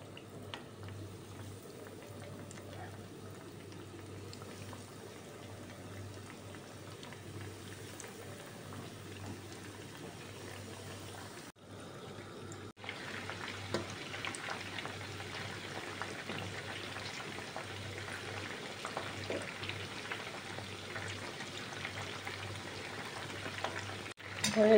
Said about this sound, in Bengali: তেল গরম হয়ে গেছে, এখন এগুলোকে ডুবো তেলে বাদামি কালার করে ভেজে নিতে হবে।